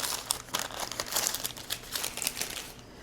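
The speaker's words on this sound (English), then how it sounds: "And just cook it right on the parchment paper." Parchment paper crinkles and rustles close up in a kitchen during stromboli preparation, with continuous brisk crackling handling noise for about three seconds that fades out at the end.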